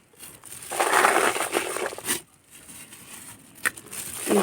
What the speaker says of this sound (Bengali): প্রথমে অল্প কিছু মাটি দিয়ে দিচ্ছি